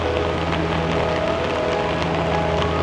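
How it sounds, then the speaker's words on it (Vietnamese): Heavy, steady rain falls in Hanoi after Typhoon Yagi, beside the edge of a lake, a dense unbroken wash of drops on surfaces with a low rumble beneath, loud and continuous throughout. "cơn mưa rất to các bạn ạ"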